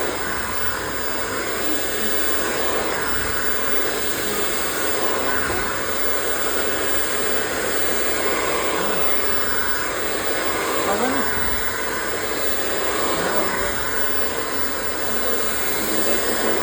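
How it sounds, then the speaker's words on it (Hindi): Hair dryer blow-drying a layered bob in a salon, a loud continuous roar of air that stays constant throughout, with faint talking underneath. "अब हमारा ब्लो ड्राई ऑलमोस्ट कंप्लीशन पर चला गया है।"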